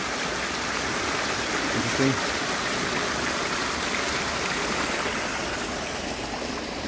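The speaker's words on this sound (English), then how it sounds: "a little bit of water flowing here" A small stream of water flows steadily in the Water Garden at Kings Park, Perth, a continuous close rushing wash, with a brief spoken word over it.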